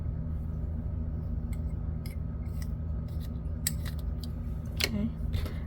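Scissors cut through knitting yarn from a beginner's knit kit, giving a few crisp snips over a steady low background hum, close and fairly quiet with no talking.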